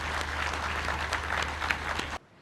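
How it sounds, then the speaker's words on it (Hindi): Members of the Punjab Assembly clap together in a lively, sustained round of applause over a low hum, which cuts off abruptly near the end. "आप सब मेरे साथ मिलके तालियां बजाएं"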